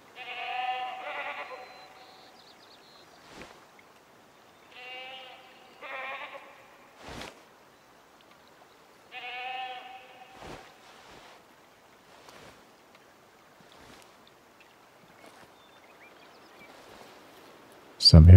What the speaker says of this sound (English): So I'm hearing some feral goats just up ahead.